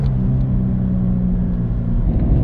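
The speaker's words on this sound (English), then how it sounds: "Now we're gonna get a little downshift here to where you can hear what it sounds like." A car's aftermarket exhaust on the road, heard loud and close during a downshift as a deep, steady rumbling drone with no voices.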